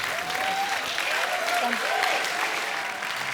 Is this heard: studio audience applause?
yes